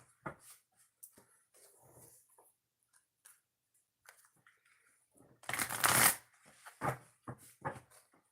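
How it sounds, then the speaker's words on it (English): Oracle cards shuffled by hand, several short papery riffles and rustles with one louder burst in the middle, close and quiet, a dog whimpering faintly in the background. "I'm going to shuffle and then we'll start, okay?"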